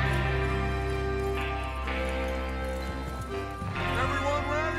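Horses' hooves clip-clop and gallop in Red Dead Redemption 2 as riders set out for a train robbery, with a brief whinny, under a voice speaking throughout.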